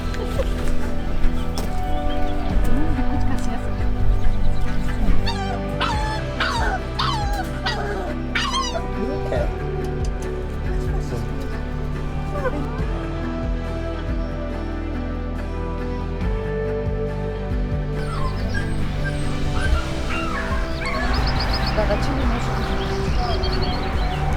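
A mother dog and three rescued street-dog puppies in Romania yip, whimper and bark in scattered bursts close by, over steady background noise and people talking.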